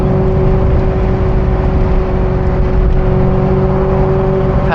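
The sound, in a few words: Ferrari 348 engine accelerating while driving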